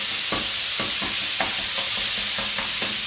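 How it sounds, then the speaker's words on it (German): Dry frying in a pan without oil for a Turkish-style potato casserole, with a constant close sizzle broken by a regular series of scraping stirs, about eight strokes, and no voices. "Das wird jetzt erstmal so angebraten. Ihr wisst ja, ich mache mal erstmal ohne Öl."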